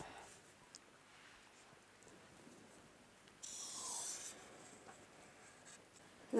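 Pen drawing a line across paper while drafting a garment pattern, a faint scratchy rub heard close up in a quiet room, with a short stronger stroke partway through.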